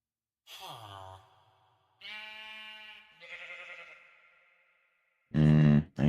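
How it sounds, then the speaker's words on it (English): A few sheep bleats in Minecraft come as separate short calls spaced over several seconds, clear and close, with a louder burst at the end. "That's one sheep."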